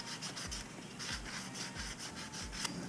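Sandpaper rubbing a copper pipe by hand before soldering a Sloan flushometer valve, steady back-and-forth scratchy strokes at a regular rhythm of about two per second, close and moderately loud.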